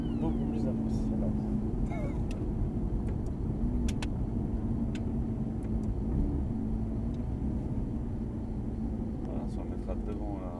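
A Ferrari F430 engine drones low and steady under passing road noise, with no sharp rev peaks. Voices sit faintly in the background.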